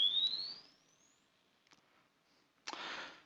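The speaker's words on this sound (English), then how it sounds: "I'm going to hit perform measurement, and the system will go through the tones and measure it." Test tones for a frequency response measurement: a single rising sine sweep glides upward loudly for about a second, followed by faint clicks and a short burst of noise near the end.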